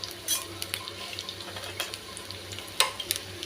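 Ginger fries in a pan for a quick vegetable soup, a faint low sizzle broken by sharp clinks and scrapes of a spoon stirring, close and intermittent without talk.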